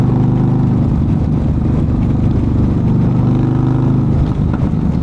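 Untuned custom motorcycle nicknamed Bonnie idling loud and close, its exhaust giving a continuous throaty rumble with faint pops and gargles, no voices over it.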